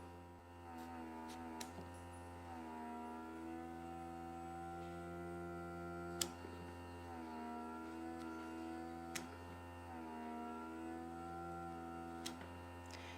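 A steady, faint electrical hum with a tonal drone from a microdermabrasion machine's suction, broken by occasional small ticks and clicks, no talking.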